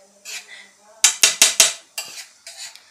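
A metal spatula clanks and scrapes in a thick metal pan while pav bhaji is pressed and stirred, giving a quick run of four loud knocks followed by lighter scrapes and taps, close up.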